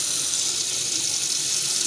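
Water from a kitchen tap runs steadily into a bowl of chicken mixture being prepared for fried chicken, a close, continuous hissing splash.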